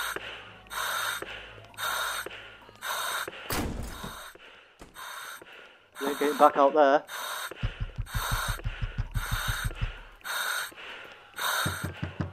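Heavy, ragged breathing and gasps echo through a horror video game, repeating in rhythmic bursts while someone talks over them in a low voice.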